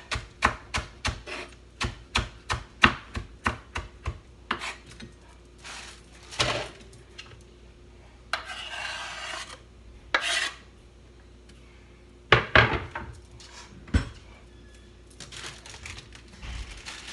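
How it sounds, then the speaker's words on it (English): Knife mincing scallion on a cutting board, a quick series of close, crisp chops with brief pauses, then scattered knocks and scraping against the board. "So I mince it up and put it last with the peppers."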